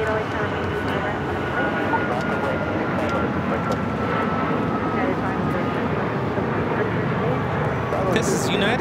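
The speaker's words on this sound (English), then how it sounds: "502 taking off to Phoenix on the MAX 9" A United Airlines Boeing 737 MAX 9 takes off from Los Angeles LAX bound for Phoenix, its steady broadband jet roar holding level throughout the clip with voices mixed in beneath it.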